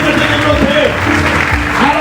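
A church congregation applauding and acclaiming during a sermon, a dense, sustained wash of clapping with voices calling out over it, loud and close throughout.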